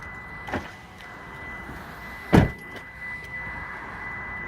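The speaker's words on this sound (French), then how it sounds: "Je règle mes rétros." Two short electric motor whirs, one faint and one louder, from a car's power side mirrors being adjusted from the driver's seat of a stationary vehicle, over a low cabin hum.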